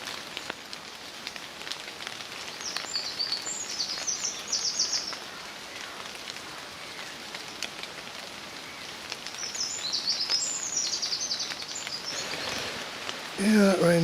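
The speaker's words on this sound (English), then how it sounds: "that rain does appear to be relentless. Still coming down." Steady rain hisses continuously, with birds chirping in bursts in the background and a louder patter near the end.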